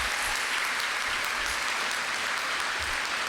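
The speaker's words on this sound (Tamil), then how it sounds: "அவங்களுக்கு நல்ல கைத்தட்டல் கொடுங்க" Audience at a speech event applauds: continuous, dense clapping from a crowd, even and unbroken, heard at a moderate distance and fairly quiet.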